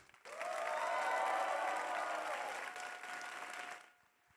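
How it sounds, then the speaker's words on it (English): A crowd at a 3v3 grand finals event in San Diego claps enthusiastically in sustained, dense applause that rises quickly, holds for a few seconds, then tapers off. "Can we get a big round of applause, please?"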